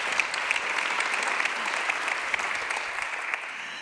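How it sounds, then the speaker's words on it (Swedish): An audience at an event claps warmly, a dense steady applause holding at full strength throughout with no voices over it. "tack så jättemycket för den varma applåden"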